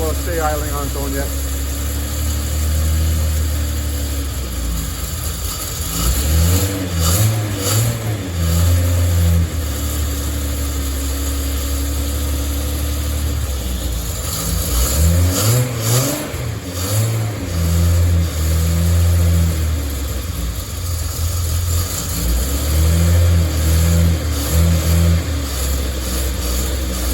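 A Datsun 240Z engine idles roughly while warming up on its first start and is revved repeatedly in bursts, rising and falling, close by, with occasional speech over it.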